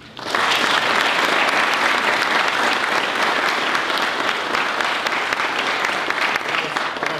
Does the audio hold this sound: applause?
yes